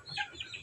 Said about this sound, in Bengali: ও অনেক মুরগি তো এখানে।